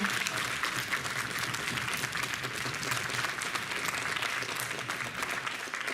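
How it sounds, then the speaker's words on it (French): Audience applause at a French cosplay event at a convention, a dense, steady wash of clapping from a large crowd that holds evenly loud for several seconds. "On peut l'applaudir."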